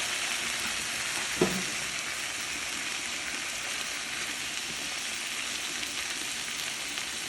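Vegetables and fresh tomatoes fry in a pan for a vegetable stew, giving a steady, close sizzle throughout with one brief utensil knock early on and no talking.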